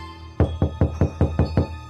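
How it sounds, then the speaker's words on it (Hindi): Someone knocks on a toilet door: seven firm, evenly spaced knocks in a quick steady rhythm, close and loud with no voices. "तभी उस टॉयलेट का दरवाजा कोई ठोकता है"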